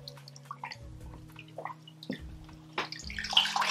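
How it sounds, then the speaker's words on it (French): Water splashing and dripping as a rinsed garment is wrung out by hand, with soft trickles and gurgles rising to a louder burst of splashing near the end, close by and without talk. "on doit essorer sans trop tirer sur les fibres"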